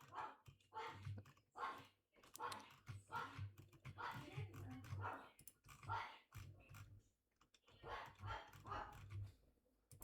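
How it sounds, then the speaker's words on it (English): A pet dog barking in the background of a home room, a series of repeated muffled barks and whimpers coming in bursts, with faint keyboard typing clicks mixed in at low level. "Sorry if you can hear my dog in the background."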